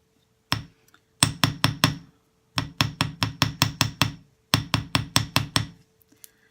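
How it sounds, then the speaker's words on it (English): Sharp, bright metallic taps from a small chasing hammer flattening metal ear wire: a single tap, then quick rhythmic bursts of several strikes each, separated by short pauses. "just using your chasing hammer to get a little bit of a flatness in there"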